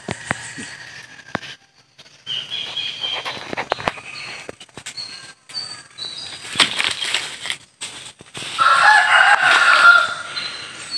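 A native Bisaya rooster crows in a loud burst near the end, with wing flapping and scattered clucks from surrounding fowl across eleven seconds of intermittent yard noise.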